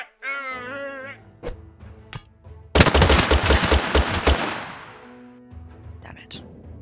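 Pistol gunfire in Totally Accurate Battle Simulator, a dense burst of sharp cracking shots clustered over about a second and a half, with scattered single pops and game effects before and after; a voice speaks early on.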